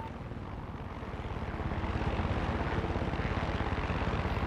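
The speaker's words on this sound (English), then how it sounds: "There's an enemy chopper creeping the skies nearby." An enemy helicopter in the video game Far Cry 6 flies nearby with a constant, rapid rotor thump and engine drone that grows slightly louder, with no voices.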